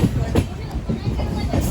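A Vivek Express train pulls into Jagiroad station, its carriages rumbling with low clattering wheels and a steady mechanical roar, with a murmur of passengers around it.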